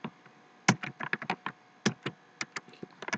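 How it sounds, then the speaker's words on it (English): Keys clatter on a computer keyboard as a command is typed, an irregular string of crisp, close taps in small clusters with brief gaps, no voices. "we'll basically type that in"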